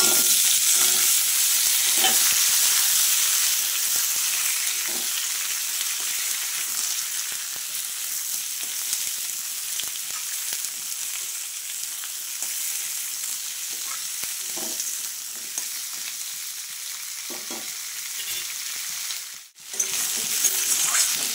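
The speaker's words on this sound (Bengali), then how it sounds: "আলুটা তো ভাজা হয়ে গেছে, এইবার আমি টমেটোগুলোকে দিয়ে দেবো।" Potatoes and green tomatoes fry in a pan with a continuous close sizzle, broken by occasional scrapes and stirring clicks of a utensil, and a sharp clatter near the end; nobody speaks.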